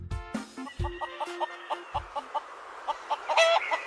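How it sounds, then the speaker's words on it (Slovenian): On a farm, a hen and her chicks make repeated short clucks and high peeping calls in a quick, uneven rhythm, close by and fairly loud. "To so kokoška in njeni piščančki."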